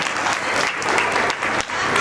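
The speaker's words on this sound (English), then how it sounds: "Give a big applause to Miss Sania and her team." A school Republic Day audience applauds a dance performance with loud, dense clapping close by, continuous throughout with a brief dip midway.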